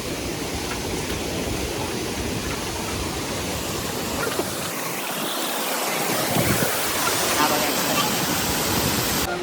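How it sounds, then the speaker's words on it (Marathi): Small roadside waterfall with water spilling down, a continuous close rushing hiss of falling water, loud and even from start to finish. "इथं एक धबधबा आहे थोडं थोडं पाणी पाजरत आहे"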